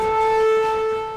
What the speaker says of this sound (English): they barely pause for the air raid siren